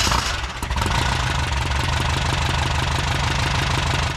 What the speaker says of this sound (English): we're going to start this engine for the very first time